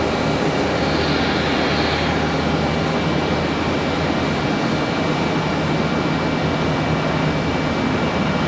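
An American Airlines jet arriving from Chicago at Charlotte Douglas airport, a loud steady engine roar with broadband rumble, sustained throughout with no voices.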